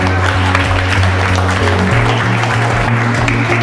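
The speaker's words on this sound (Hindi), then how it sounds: "जोरदार तालियां उसके लिए हो जाइए।" An audience claps loudly and continuously over sustained background music, the applause dense and close throughout.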